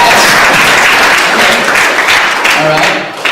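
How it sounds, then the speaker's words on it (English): A stand-up comedy audience gives a loud, full round of applause, dense continuous clapping with crowd voices underneath that tapers off near the end. "Let's give a round of applause to guys with self-control."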